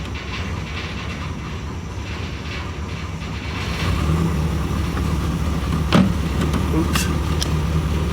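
A car engine with Weber carburetors and a freshly bled hydraulic clutch runs steadily, then surges louder about halfway through as it is revved and shifted into gear, with a sharp mechanical click shortly after.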